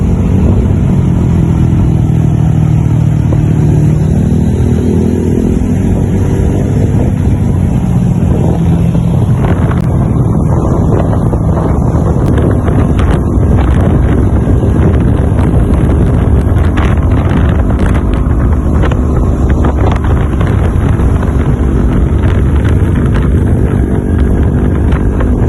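A motorcycle rolls down a long, steep descent. Its engine hum is mostly buried under loud, steady wind buffeting on the microphone, with no talking.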